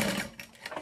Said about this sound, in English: I'm going to sew down that bottom again.